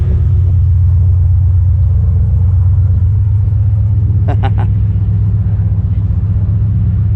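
A VMP-powered 2012 Ford GT500 runs on a dyno at Scram Speed, its engine holding a loud, steady, deep rumbling drone throughout, with a brief voice heard over it.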